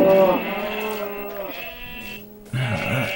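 Minecraft sheep from the Tropicraft mod bleat in a few wavering, harmonic calls, a long one at the start, a quieter one in the middle and a short doubled bleat near the end, close and clear with no talking.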